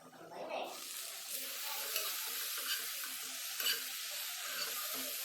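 Brinjal with turmeric and salt cooks covered in a pan, giving a steady soft sizzle with faint scraping and watery crackle throughout, and a brief murmur of voice near the start.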